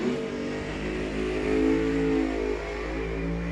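A 69 Camaro and a 71 Cuda at a drag race, heard as a steady, loud engine drone with rising harmonics as the cars accelerate, with no talk over it.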